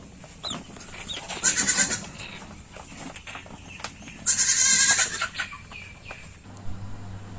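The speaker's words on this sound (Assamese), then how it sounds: "এই ছাগলী কান্দি নাথাক।" A goat bleats loudly and repeatedly at a small backyard poultry farm in Assam, two strong, drawn-out cries standing out close by, while chickens cluck intermittently in the background.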